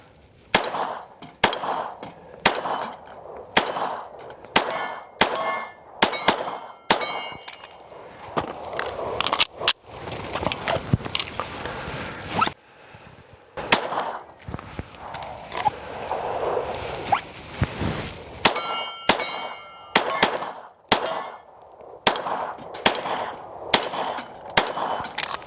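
An Archon Firearms Type-B pistol fires outdoors in repeated double taps, sharp loud cracks arriving in quick pairs and spaced clusters, with quieter rustling and handling noise between strings of shots.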